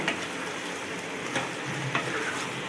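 Chicken masala being stirred as it fries in a pan, a steady hissing sizzle with a few soft scrapes of the spoon, close and continuous, no talking.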